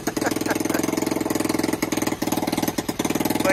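A mid-sized engine drives a chaff cutter (toka) with a steady, rapid thumping chug, loud and close, its rhythmic pulses repeating evenly throughout.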